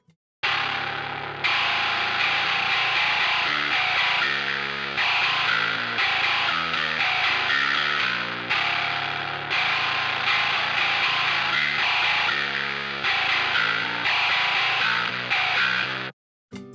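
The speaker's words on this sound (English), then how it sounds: "The track contains a lot of the really gritty distortion that sounds horrible on its own." Progressive metal bass track, EQ'd to leave only the high end, carrying heavily gritty, harsh distortion; a loud, sustained buzzing riff plays alone with brief stops before ending abruptly.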